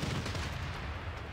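Bombardment in Civilization 6, a muffled rumbling barrage of booms rolling low and fairly quiet, continuous for over a second without voices.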